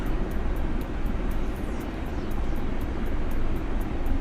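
A heavy aircraft rolls down a taxiway on a rolling takeoff start in bad weather, a steady broadband engine roar and rumble, loud and continuous with no talk.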